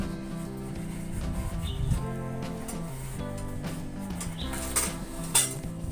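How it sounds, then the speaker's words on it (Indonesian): Rebon dried shrimp with shallots and garlic sautéed in a pan for sayur lodeh, with repeated metallic scraping and clinking of a utensil against cookware over a faint, steady sizzle. "Kemudian saya tumis berbarengan dengan bawang merah dan bawang putihnya."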